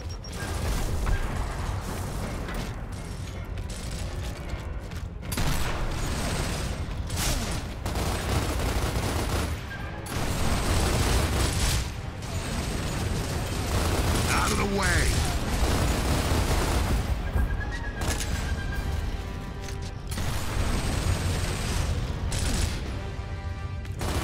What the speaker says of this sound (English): Watch out over there, there's a machine gun.